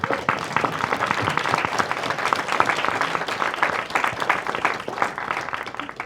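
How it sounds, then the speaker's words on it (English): A school board meeting audience applauds district teachers and staff being honored, with steady, dense clapping throughout. "Can we give them a round of applause for all these people?"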